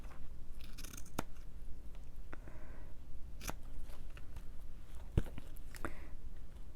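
Scissors snipping while decorating signature covers, several crisp isolated cuts spread irregularly over a quiet room, close and fairly loud against faint background rustle.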